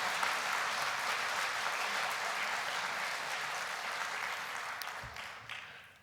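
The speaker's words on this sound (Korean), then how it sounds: "우리 박수로 격려 한번 하십시다" A church congregation applauds during a New Year's Eve service at Pyeongkang Church, a dense, sustained roomful of clapping that gradually thins and fades out near the end.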